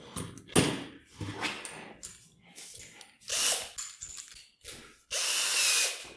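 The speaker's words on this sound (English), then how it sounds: "Have to use power tools" Power tools work in short bursts, an irregular series of loud whirring and ratcheting spurts separated by brief pauses, with the longest burst near the end.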